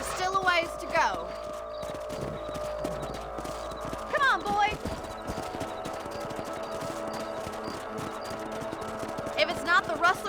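Horses gallop in Red Dead Redemption as riders patrol a ranch property, a continuous rapid clip-clop of hooves with occasional whinnies, while someone speaks briefly over the ride.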